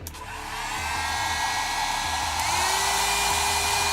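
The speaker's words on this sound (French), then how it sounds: "alors avec le sèche-cheveux, voyons ce que ça donne" A hair dryer blows with a loud, steady whirring rush, its pitch shifting slightly partway through, running continuously with no talking.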